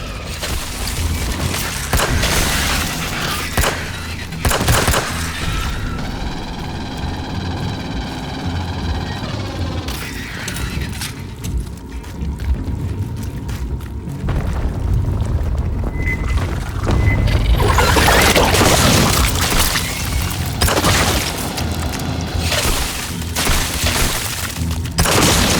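A gas-filled bladder in Aliens Fireteam Elite bursts under gunfire with loud booms and shattering debris, amid a long, dense stretch of game combat noise.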